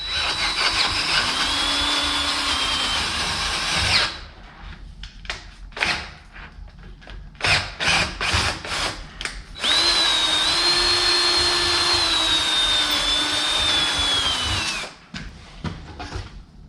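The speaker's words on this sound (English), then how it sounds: "I'm drilling the holes in the spacers to line up with the holes in the steel." A power drill bores holes through spacers meant to line up with a steel plate on a tri-axle International 9370 dump truck, running in two long steady whining bursts with short stop-start pulses between them, close and loud.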